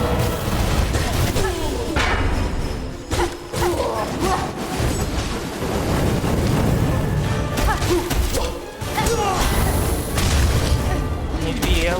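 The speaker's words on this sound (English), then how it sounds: "Oh, I forgot about the explosion again!" Heavy booming blasts and crashing bursts from an explosion during a boss fight in Hollow Knight: Silksong, loud and repeated amid dense game music and effects over about twelve seconds.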